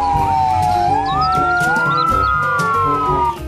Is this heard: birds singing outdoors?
no